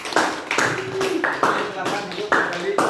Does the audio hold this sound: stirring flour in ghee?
no